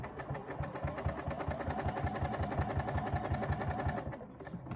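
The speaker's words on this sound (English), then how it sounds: "I'm just continuing to sew" Sewing machine stitching a Tamarack jacket in batik canvas, a fast, even mechanical chatter of needle strokes running steadily up close before stopping near the end, with no talk.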